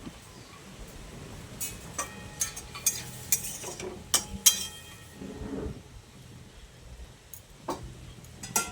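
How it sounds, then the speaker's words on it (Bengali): Susni shak greens stirred in a pan after water is added, with a series of sharp utensil clinks and scrapes against the pot, close and intermittent, fading to quieter stirring. "জলটা দিয়ে ভালো করে নেড়ে চেড়ে আবারও মিশিয়ে নিচ্ছি।"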